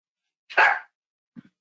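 A dog at home gives one short, sharp bark close by, followed a moment later by a fainter, brief double huff, with silence around both.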